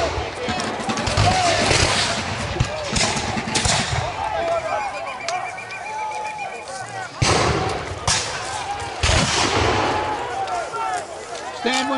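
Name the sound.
musket volley fired in American Revolution reenactment battle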